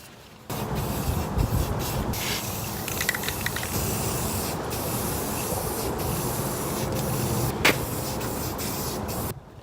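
Aerosol spray can painting the front skirt of a BMW E30 outdoors in wind: a steady, close, unbroken hiss that runs for about nine seconds with only slight fluctuations.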